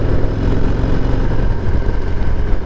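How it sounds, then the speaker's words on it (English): Stock exhaust of a 2024 Harley-Davidson Heritage Classic 114 (FLHCS) V-twin, a steady low, rumbling engine note heard up close while riding, continuous throughout with no speech. "a deep exhaust note on a stock bike, but you can hear it"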